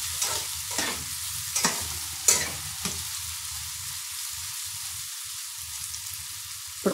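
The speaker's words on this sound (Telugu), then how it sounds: "ఇప్పుడు కొంచెంసేపు ఇలా ఆనియన్స్ని వేయించుకుందాం" Onions fry quietly in a pan for a home-style egg curry with ridge gourd. A soft, steady sizzle sits under a few scattered scrapes of a stirring spoon.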